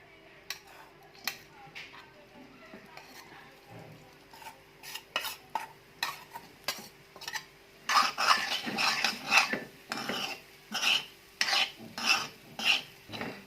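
Green peanut chutney stirred in a pan of hot oil, with a spoon repeatedly scraping and clinking the pan. Soft taps come at first, then louder, steady stirring strokes with a faint sizzle beneath.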